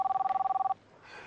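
A telephone bell rings in a quick series of about a dozen even pulses, close and clear, then cuts off, leaving a faint, muffled room murmur.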